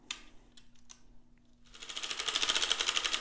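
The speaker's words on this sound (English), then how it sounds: "now you're going to crank several rows until you have enough waste yarn" A hand-cranked circular sock knitting machine running waste yarn: a few light clicks at first, then a steady, fast, close mechanical clatter that repeats with the rhythm of the crank and builds in loudness, with no talking.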